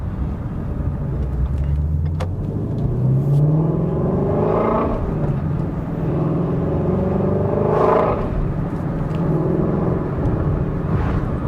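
A Ford Mustang Shelby GT350 drives along with its engine and loud, raspy exhaust droning steadily, rising and falling in pitch through several revving pulls over a constant road rumble.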